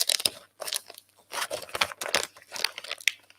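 Crinkling and tearing of a mailed package from the Punk Rock Museum being opened by hand, with busy irregular bursts of crackling and ripping, close and loud, no talking.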